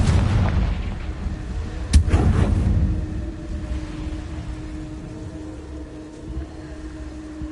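A Confringo blast spell in Hogwarts Legacy, with a heavy booming explosion followed by a sharp crack and a rumbling decay that fades over several seconds.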